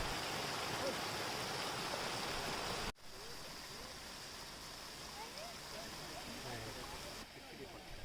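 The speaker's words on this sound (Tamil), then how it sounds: "ஒரு இடத்துல வந்து தண்ணி வந்து நல்லா ஓடிட்டே இருந்தது." Water runs steadily at an outdoor spot in Mysore, a continuous hissing rush heard close at first, then a little quieter after a brief cut, with faint chirping over it.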